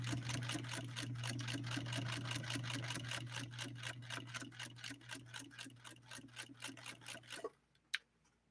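White Rotary household sewing machine stitching through leather, a fast, steady mechanical chatter with a low motor hum that runs continuously before stopping abruptly, followed by a single sharp click.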